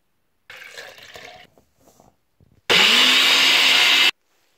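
Chocolate vegan meal replacement shake powder being mixed, first with soft rattling and sloshing, then a loud, steady whirring burst of about a second and a half that cuts off abruptly.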